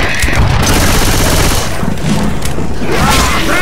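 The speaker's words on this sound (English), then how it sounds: "Princess, stop shooting me!" Dense, loud gunfire in Left 4 Dead 2, overlapping bursts and booming shots firing continuously at close range with some mechanical clatter, with voices faintly mixed in.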